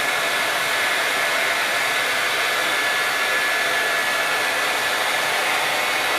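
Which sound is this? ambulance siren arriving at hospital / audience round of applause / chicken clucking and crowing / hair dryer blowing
hair dryer blowing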